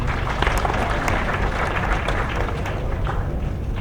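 A crowd at a class session gives dense, continuous applause, loud and close, with clapping sustained evenly throughout.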